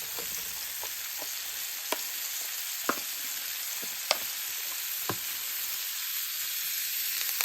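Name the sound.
garlic cloves sizzling in pan with ribeye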